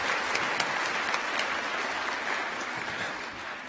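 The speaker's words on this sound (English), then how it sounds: "do a very small round of applause for the babies for being so well behaved" Applause from a graduation ceremony audience, clapped for well-behaved babies, a steady dense round of many hands filling the hall, fairly loud and even, tapering slightly toward the end with no talk over it.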